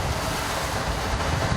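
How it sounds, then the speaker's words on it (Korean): Strong ocean waves roll around a fishing boat at sea, a loud, continuous wash of surf and wind noise filling every moment, with no one talking. "점점 거세지는 파도"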